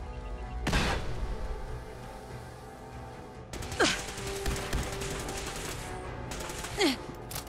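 Separate loud gunshots from a weapon in Fallout 4, a sharp blast early on followed by a few more spaced shots and bursts, close and punchy over a low game background.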